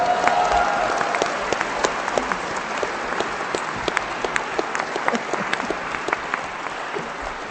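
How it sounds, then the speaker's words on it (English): Sustained applause from a seated audience for an artists' panel, steady dense clapping with scattered louder claps across the whole stretch, no talk over it. "Once again, round of applause for our panelists."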